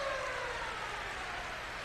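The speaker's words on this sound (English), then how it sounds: "Up against the boards as the siren goes and the period ends." A hockey arena siren sounds at the end of a period in a 1985 Super Series game between the Montreal Canadiens and CSKA Moscow, a steady wailing tone over constant crowd noise.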